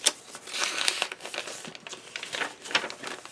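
Journaling paper for a handmade nature junk journal crinkles and rustles as it is handled up close, in irregular bursts of crisp rustling with no talk.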